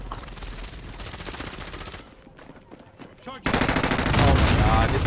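Rapid automatic gunfire rattles in a video game, dense sustained bursts that drop away briefly, then return louder and closer, with players talking excitedly over it.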